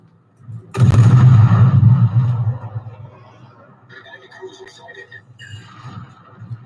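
Naval guns of the tier 2 premium support cruiser Diana fire in World of Warships: a loud broadside blast opens, then a long rumbling decay with scattered later reports and game effects beneath faint background.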